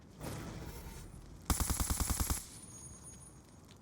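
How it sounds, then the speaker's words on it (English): Light machine gun in Call of Duty firing a rapid burst of about ten evenly spaced shots, sharp and fairly close, preceded by fainter distant gunfire and followed by ringing quiet. "Someone's actually got an LMG"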